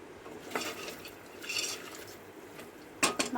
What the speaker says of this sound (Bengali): মাংসটা এইভাবে ভালো করে আপনারা কষিয়ে নেবেন।